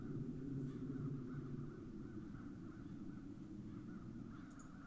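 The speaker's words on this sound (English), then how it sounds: "Those crows stem from the nether hells." Crows cawing in The Dark Eye: Chains of Satinav adventure game, harsh repeated calls carrying on under a steady, fairly quiet ambient hum.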